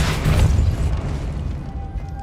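A Depulso spell is cast in the video game Hogwarts Legacy, landing as a loud, close, booming impact burst that decays into a rumbling tail and fades to quiet.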